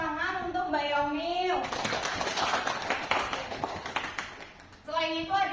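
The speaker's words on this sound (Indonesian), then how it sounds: "Beri tepuk tangan untuk Mbak Yomi" A classroom of students bursts into a few seconds of dense, lively applause for a classmate during a mathematics lesson. A teacher's voice comes just before and right after it.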